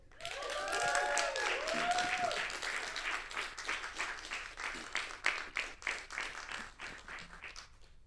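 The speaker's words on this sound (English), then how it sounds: "Can we make some noise, please, for the wonderful James Holt?" Audience applause and cheering rise loudly for comedian James Holt at a spoken-word slam show, with whoops early on, then steady clapping that thins into scattered claps toward the end.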